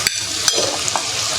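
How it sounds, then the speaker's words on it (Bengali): Vegetables such as pumpkin, papaya and bottle gourd frying in a pan for a chicken kofta curry, stirred with steady scraping over a continuous close sizzle, no talking. "নাড়তে থাকুন।"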